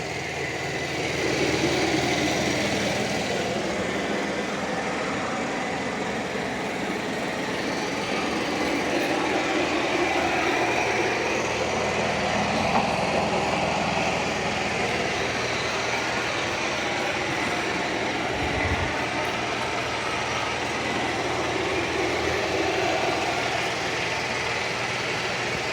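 A Shark Matrix robot vacuum and mop runs steadily, a continuous motor drone and brush whir holding at an even level close by throughout, with no talking.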